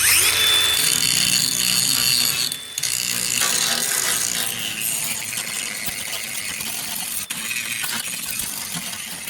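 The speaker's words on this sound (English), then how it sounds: "use a grinding wheel for the front, get that all cleaned up" A grinding wheel whirs loudly against the front of a steel 55-gallon barrel, a harsh continuous rasp with brief dips as pressure shifts.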